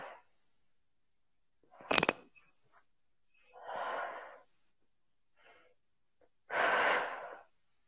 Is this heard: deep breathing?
yes